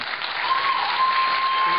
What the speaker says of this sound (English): Hold your applause, please.